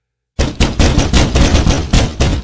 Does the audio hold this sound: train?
no